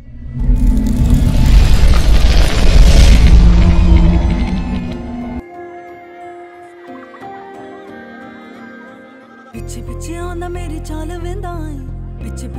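A cannon fires a loud, deep boom that rumbles and decays over several seconds, followed by quieter musical tones.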